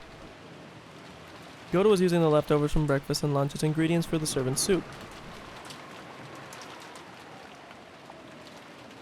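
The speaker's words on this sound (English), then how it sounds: "There were 5 humans in the kitchen, but it was very quiet, filled only with the sound of rain." Rain effect from the visual novel Umineko, a soft steady patter of falling rain running throughout, briefly under a speaking voice near the start, then alone.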